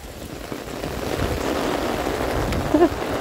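Steady rainfall patters on a surface nearby, a continuous soft hiss with a brief louder splash near the end.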